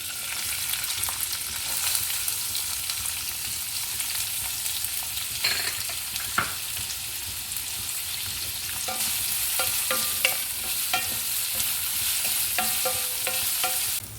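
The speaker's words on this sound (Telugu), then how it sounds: "ఇప్పుడు ఆనియన్ ఫ్రై అయిందండి." Onion frying in a pan with cumin and mustard seeds for vegetable ponganalu, a continuous close sizzle with repeated scraping stirs of a spoon against the pan, growing busier toward the end.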